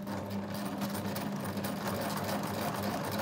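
A sewing machine stitches a curved dart in fabric, its needle motor running in a steady, continuous whir at close range with no talk over it.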